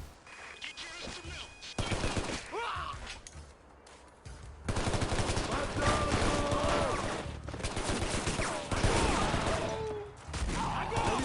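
Big guns firing in Shadow Ops: Red Mercury: heavy automatic gunfire in loud sustained bursts, with a brief lull before a long continuous barrage. A voice talks intermittently over the shooting.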